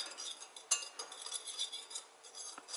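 Apple pear quinoa cake batter is stirred in a bowl with a utensil, giving soft continuous scraping and clinking against the bowl, with one sharper clink near the start and no talking.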